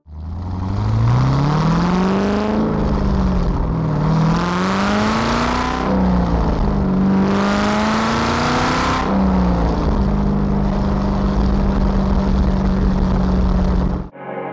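Loud LS3 V8 in a ground-up rebuilt Mazda ND Miata revving repeatedly, engine pitch rising and falling in several pulls before settling to a steady idle-like drone, close by with no talk.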